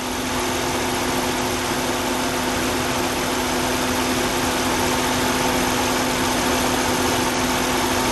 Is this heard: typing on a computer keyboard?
no